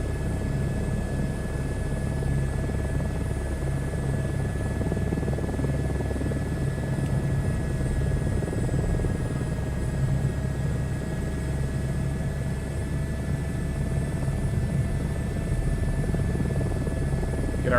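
A helicopter in a VR flight game cruises steadily, its rotor and engine making a loud, constant whir with a low thrumming beat and a thin high whine throughout, no talking.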